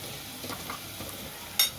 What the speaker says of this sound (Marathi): आपलं कांदा आणि मिरची सगळंच मस्तपैकी आता फ्राय झालेलं आहे.